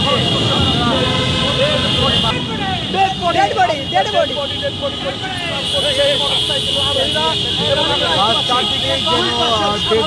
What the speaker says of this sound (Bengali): শত শত বাইকের মহড়া এবং বিকট আওয়াজের মাধ্যমে কিন্তু আসলে এই মহড়া আসলে চলছে